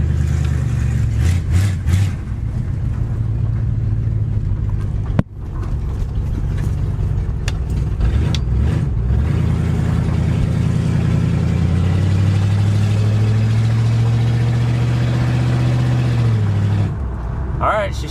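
An old Ford Galaxie, parked for five years, runs steadily on the road with its engine droning and rising through a gear shift, the mechanical hum loud and close throughout.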